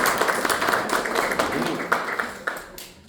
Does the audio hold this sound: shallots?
no